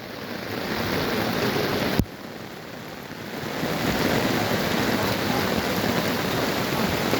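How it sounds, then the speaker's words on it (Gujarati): Heavy monsoon rain pours down in a dense, unbroken roar on pilgrims walking to a temple, with a sharp knock near the start and no voices. "ખૂબ વરસાદ."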